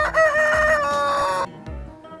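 A rooster crows loudly and close in a long, harmonic cock-a-doodle-doo, followed by a few softer clucks as it fades out.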